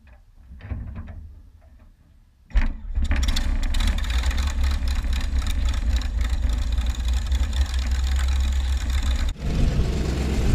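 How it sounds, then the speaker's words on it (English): Engine start of a Bowers Fly Baby light aircraft: quiet rustling, a brief cough, then a sudden loud catch into a steady, rough, close-up running drone that holds to the end with only a short dip. "here's the engine start"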